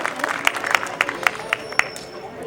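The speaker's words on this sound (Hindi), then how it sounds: "तो आप सब इन सब के लिए एक बार जोरदार तालियां बजाएं" Audience at the Geeta Mahotsav 2021 festival clapping for the performers in a brisk, regular rhythm, each beat sharp against a softer bed of scattered applause and room noise.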